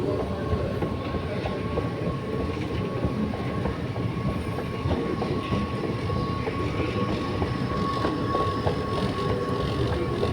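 A Dubai metro train rolls into the station with a continuous steady rumble and a faint high whine, fairly loud and without talk.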